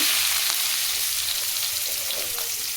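Onion and green chili sizzle steadily in a hot tempering for cabbage and dal saaru, a dense continuous frying hiss with faint stirring, close and fairly loud throughout with no talking.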